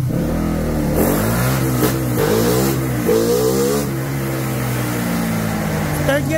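A Suzuki Raider Fi motorcycle engine with a remapped stock ECU revs hard on a dyno in third gear, a loud, steady, rising mechanical drone with strong harmonics that climbs and holds throughout.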